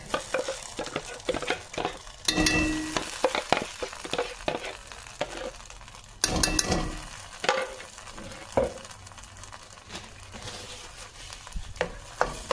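Shahi paneer gravy stirred and frying in a pan, with scraping spoon strokes over a steady low sizzle and occasional louder clatters of utensil against the metal pan, no talking.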